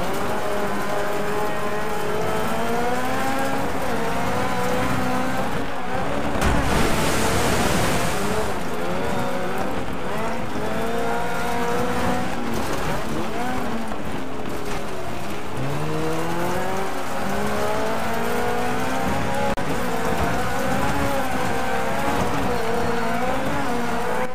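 Rally car in DiRT 3 with a five-gear gearbox, its engine revving hard and loud throughout, pitch climbing and dropping through gear shifts, with a burst of gravel or tire noise partway through.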